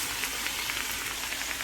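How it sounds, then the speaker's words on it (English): Rice fries in a pot for Guyanese-style pigeon peas rice, a soft, even sizzle and crackle that holds steady at close range with no talk. "So now I'm going to add the rice. Let's fry it up for like 2 minutes."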